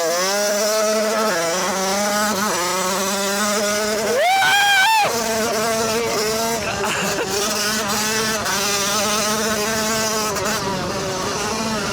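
Tuned Peugeot 50cc scooter engine with a factory shock absorber, revving high and steady with a rising squeal near the middle, loud and continuous throughout.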